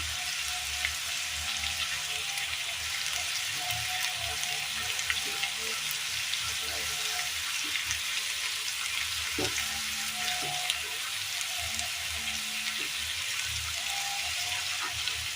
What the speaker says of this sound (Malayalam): മഞ്ഞൾപ്പൊടി, മുളക് പൊടി ഇത്രയും ചേർത്ത് കൊടുത്ത് ഒന്ന് മിക്സ് ചെയ്തെടുക്കാം.